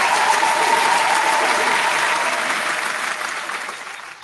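Round of clapping for a music producer, dense and fairly close at first, then thinning and fading away toward the end.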